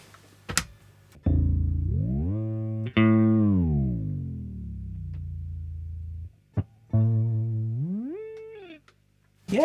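A TC Electronic Nova System pitch shifter bends guitar notes, sliding long sustained tones down and then sweeping another phrase upward, with sharp pick attacks and short gaps of silence between the shifted notes.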